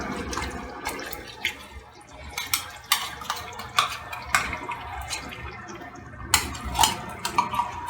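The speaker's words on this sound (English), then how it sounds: "Give a little stir." Bigos stirred in a pot, a spoon scraping and knocking against the pot sides in irregular sharp clinks over a thick wet bubbling, close and fairly loud.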